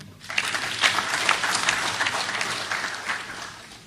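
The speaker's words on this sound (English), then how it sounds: "Please give them a clap." A conference audience at the AfricaLics international conference in Kigali, Rwanda gives steady, even applause lasting a few seconds, moderately loud and continuous, with no voices over it.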